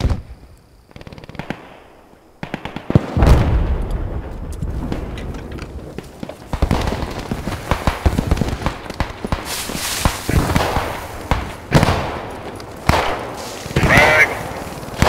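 Gunfire in the multiplayer war game Post Scriptum: bursts of rapid shots and sharp cracks, some near and some distant, running throughout alongside footsteps, with players talking over it.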